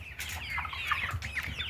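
Hens and a rooster cluck and call inside a coop on a small farm in 16°F winter cold, several short overlapping clucks and squawks close by, with no talk over them.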